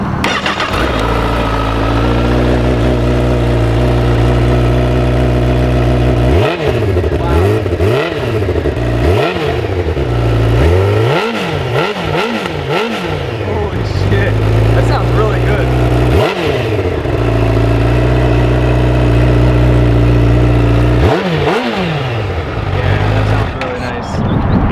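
A 2017 Honda CBR1000RR sport bike with a stock titanium exhaust starts up close by, settles into a loud steady idle, then is revved repeatedly in sharp rising and falling bursts, with voices talking over it.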